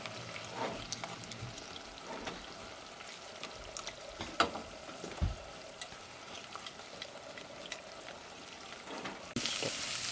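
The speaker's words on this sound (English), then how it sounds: "And we will scramble them." Eggs are scrambled in a frying pan for Bengali dim ghugni, with a continuous sizzle broken by scraping and stirring strokes and a few knocks of the spatula, close and without speech.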